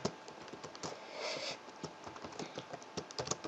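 Quiet, rapid keystrokes on a computer keyboard during C programming, an irregular run of light clicks and taps with no voice.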